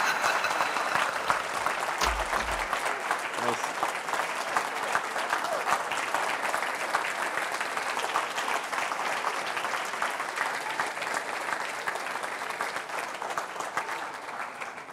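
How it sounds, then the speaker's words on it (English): Audience at a foundation's annual lecture applauding, a dense, sustained wash of clapping from many hands that continues steadily throughout. "I don't know why you're all clapping"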